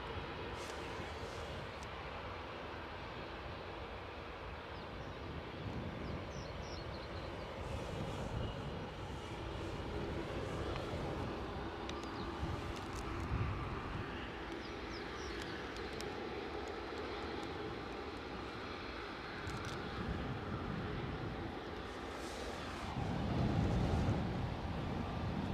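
Airliners taxiing at Edinburgh airport, a steady distant jet engine rumble and whine that holds at a constant level and swells slightly near the end, heard from outdoors.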